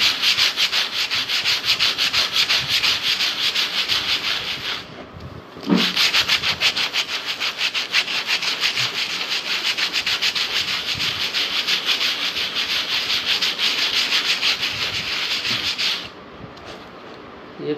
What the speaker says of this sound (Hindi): ये सूखने के बाद जब इसको रेग मार से रब आप करेंगे तो इसमें इफेक्ट आएगा